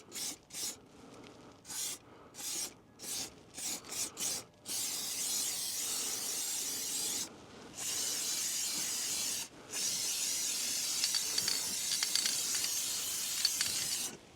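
Underbody protection sprayed from a long nozzle into the wheel arch of a Subaru Forester STI SG9, first several short hissing test bursts, then long continuous spraying with brief pauses, close and steady.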